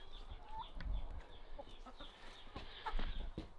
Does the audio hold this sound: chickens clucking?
yes